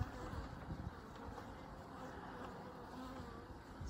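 Honey bees at an open hive full of brood, humming in a soft, steady buzz throughout, heard close but faint, with no talk.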